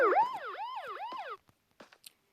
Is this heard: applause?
no